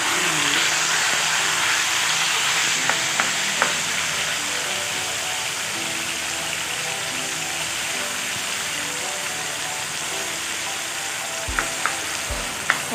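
Chicken pieces fry in a pan after garlic has been cooked in it, giving a loud, continuous hiss and crackle with a few clatters near the end.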